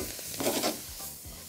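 Mixed vegetables sautéed in a pan for a green curry, turned with a utensil, giving a few scraping strokes over a soft sizzle, close by with no talking.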